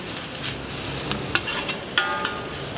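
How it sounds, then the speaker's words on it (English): A whole onion frying in a pan while being stirred, a constant close sizzle with scraping clicks of the utensil against the pan at irregular moments, no talking. "Try to keep on moving your onions around, because if you just leave it there, it's just gonna burn."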